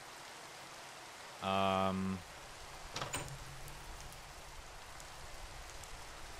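Rain falls steadily in the Minecraft modpack SevTech Ages as a soft, continuous hiss throughout. A brief tonal game sound and a single spoken word rise above it.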